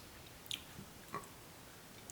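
Soft, hydroponically grown butter lettuce being bitten and chewed, with a couple of faint, brief wet crunches over quiet background and no talking.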